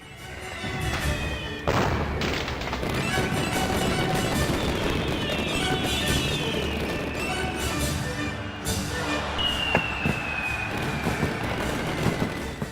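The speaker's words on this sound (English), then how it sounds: "The sounds of exploding firecrackers and cheering resonate through the sky." Dense, continuous crackling and popping from many small firecracker explosions during Spring Festival celebrations in China, with sharper bangs and a rising whistle cutting through a steady roar of noise.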